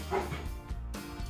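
A puppy lets out a quick, close yip-like bark, followed by a softer whimper.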